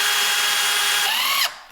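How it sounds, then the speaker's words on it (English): A power drill whines at high speed, pre-drilling wood for cypress screws, then winds down and stops abruptly near the end. "let's pre-drill"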